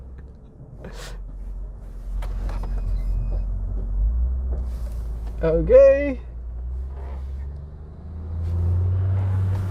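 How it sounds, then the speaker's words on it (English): A truck passes close on a road heard from inside a Honda Civic, a low rumble swelling and fading under steady road noise, with a brief tonal horn-like burst midway and a short spoken word. "Oh my God, there's a truck coming."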